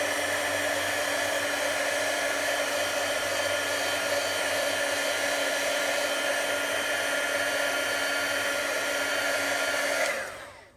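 A heat tool blows steadily and loudly for about ten seconds, drying ink on glossy cardstock, then cuts off at the end.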